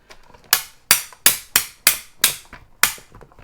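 A Diamond Press die-cutting machine runs plates through in a series of seven sharp, evenly spaced clacks, each with a quick decay, close and clear against quiet.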